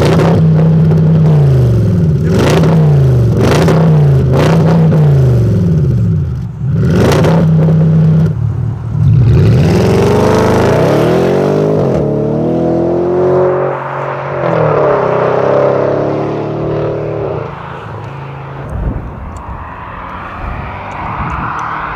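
An Audi revs hard in a city street, with several sharp throttle blips rising and falling, then a loud roaring pass-by that sweeps close and fades into the distance.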